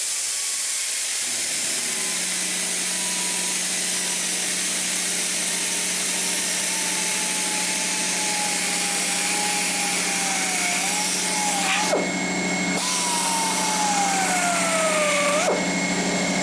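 A new high-torque, low-RPM die grinder cuts stainless steel, its motor a steady loud hum with a bright whine that dips under load and briefly stalls twice near the end, alone with no talk.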